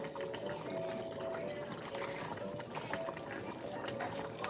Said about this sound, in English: I'm going to add in a little bit of water